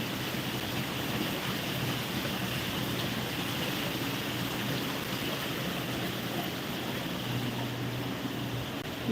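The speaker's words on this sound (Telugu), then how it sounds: "ఏంటి వర్షం హైదరాబాద్లో ఏంటి వాటర్" Heavy rain falling in Hyderabad, a dense, steady roar of downpour that stays loud and even throughout with no voices.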